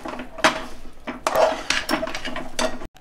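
A spoon repeatedly scrapes and clinks against a metal pan as dry fruits are mixed into a sugar-free date mixture, giving about eight irregular, close, loud strokes with no talking.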